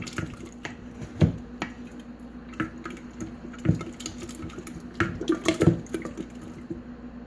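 Thick kefir yogurt is stirred in a jar with a long spatula, giving soft wet squelches, drips and occasional clicks against the glass at an uneven pace, close and quiet, with no talk.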